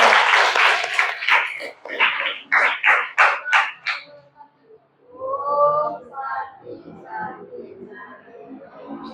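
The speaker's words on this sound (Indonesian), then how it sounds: "berikan tepuk tangan untuk kelompok 3" A burst of clapping from a group of people for a few seconds, then fading as voices begin talking.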